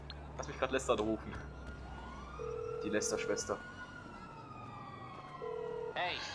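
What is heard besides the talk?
ambulance siren in a video game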